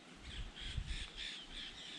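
Wild crows in Jamaica give a run of repeated harsh caws at moderate distance, rising and falling over steady outdoor background noise, with no voices.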